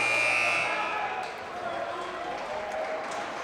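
At a boys' high school basketball game between Westbrook and Haddam-Killingworth, a loud electronic end-of-quarter buzzer sounds for about half a second amid gym crowd noise, followed by murmuring and faint sneaker squeaks.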